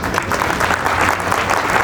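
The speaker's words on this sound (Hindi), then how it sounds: "अब किसी एक आध ने ताली बजाई।" A small audience at a spiritual lecture in a hall applauds briefly, a dense patter of several people clapping at once, fairly loud and close for under two seconds.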